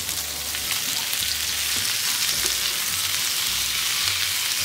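Onions and tomatoes for malai kofta curry sizzle steadily in a hot pan, a close, continuous crackling hiss with faint stirring and low pulsing hum beneath, no voices.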